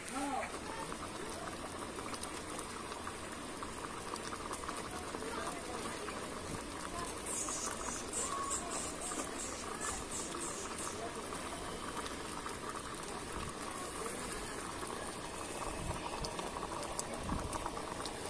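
Water boils steadily inside an electric coffee pot, a faint continuous bubbling and hiss with small pops throughout, heard close and alone.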